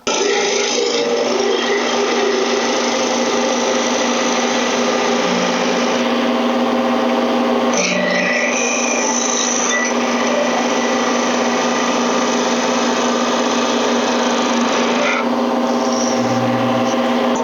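Skew chisel making smoothing planing cuts on a spinning wooden cylinder on a woodturning lathe, a steady close whirring cut with motor hum that runs continuously, with slight changes in tone as the tool moves along the wood.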